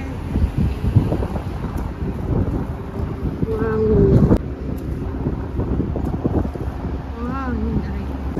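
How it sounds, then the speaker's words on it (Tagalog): Strong, hot wind buffets the microphone in a constant rumbling roar, with Tagalog voices briefly audible through the gusts. "Grabe ang hangin. Ayan o guys, ang hangin. Hangin siya pero mainit."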